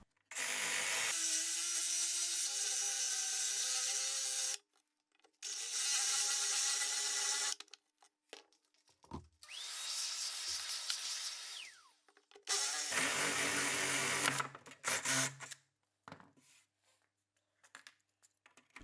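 A 26 mm Forstner bit drills a hole in wood, with several loud, sustained bursts of whirring power-drill noise separated by quiet pauses.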